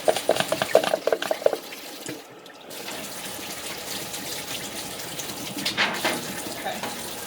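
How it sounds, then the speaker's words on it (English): Tap water splashes and trickles during dishwashing at a kitchen sink, with clinks of dishes early on. A steadier flow of running water follows, close and moderately loud, and no voice is heard. "I'm going to wash these dishes on this side"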